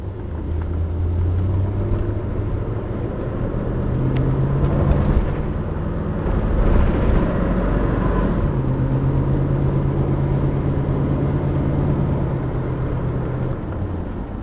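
Steady engine drone and road rumble from a Chevy-drivetrain Class C motorhome cruising on the road, heard from inside the cab, continuous and fairly loud with no talking.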